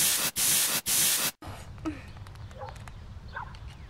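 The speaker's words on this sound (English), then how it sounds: "I gotta use my spray" Two short bursts of close aerosol spray hiss in quick succession, then quieter room noise with faint scattered sounds.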